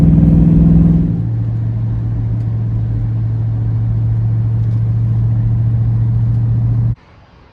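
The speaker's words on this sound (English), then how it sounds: "Got it running long enough to get it off the trailer down the ramps." A John Deere 140 H3 garden tractor engine runs at a steady low drone after a brief higher surge, loud and close, then cuts off abruptly near the end; no talk.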